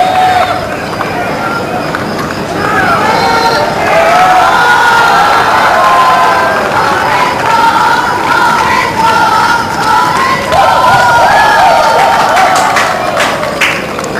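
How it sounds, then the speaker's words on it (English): Crowd at a 2010 Commonwealth Games men's singles lawn bowls match, New Zealand against Australia, gives loud sustained applause and cheering from teammates and spectators, with shouts and voices mixed in throughout. "Gets a round of applause from his Aussie teammates."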